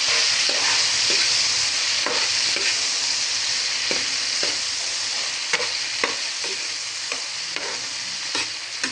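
Shrimp frying in a hot pan while being stirred, a loud continuous sizzle punctuated by regular scraping strokes of the spoon, close and without speech.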